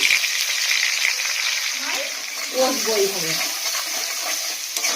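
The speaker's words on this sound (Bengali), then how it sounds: "দেখো এবার এতে এই যে ফোড়নের মধ্যে দিয়ে দেবো টমেটো কুচি" Chopped tomato tossed into hot oil tempered with whole cumin for a vegetarian paneer mince, giving a steady close sizzle that swells briefly as the tomato lands, with a soft voice over it.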